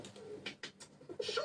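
Pigeons coo softly beside a parked car, a few low throaty warbling calls spread across the moment, fairly faint and close, with no talking.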